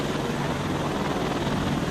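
A helicopter flying in the VR video game Defender Patrol gives a steady, loud rotor and engine roar that fills the whole moment with no voices.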